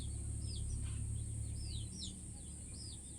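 A baby genda bird held in a hand gives a few faint, thin chirps over a steady low background hum.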